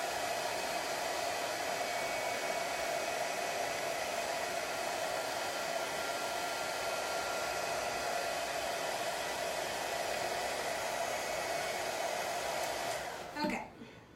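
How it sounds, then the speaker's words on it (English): A hair dryer blows a steady, loud whooshing drone for about thirteen seconds while drying thick paint on a spring centerpiece craft, then clicks off and winds down. "I had some thick paint right here. Let me blow dry that up more a second."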